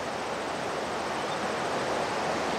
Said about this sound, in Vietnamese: Nhưng hôm nay là lũ to thật.